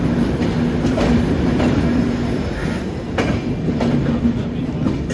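A passenger train on the Vijayawada to Rameswaram route rolls along the tracks with a dense, steady roar and rhythmic clatter of wheels, loud and close throughout with no voices.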